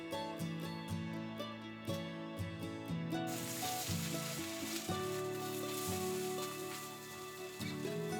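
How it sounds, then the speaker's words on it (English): Scrambled eggs fry in oil in a pan, a soft continuous sizzle running beneath prominent background music throughout. "Heat up some oil in the pan and fry the scrambled eggs."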